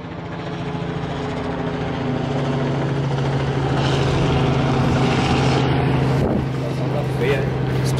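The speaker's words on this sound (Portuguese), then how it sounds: "O helicóptero tá meia hora gastando gasolina aí" A steady, loud rotor drone hums continuously, like a helicopter hanging overhead, with a brief swell near the end and faint voices underneath.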